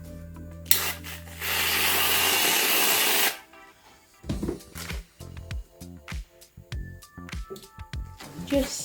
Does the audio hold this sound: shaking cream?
yes